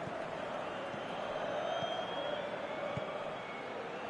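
A stadium crowd in the eFootball video game on PS4 keeps up a steady, broad roar with faint whistles and chanting at a distance, with no lull.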